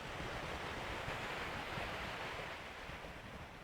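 Sea waves wash onto the shore in an outdoor seaside setting, a soft, continuous surf hiss with some wind. It stays steady and fairly faint, and nobody speaks.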